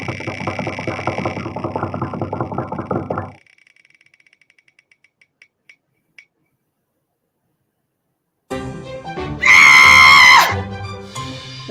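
A spinning prize wheel: rapid regular clicking that slows to a few sparse ticks and stops, followed after a pause by loud cheering and screaming.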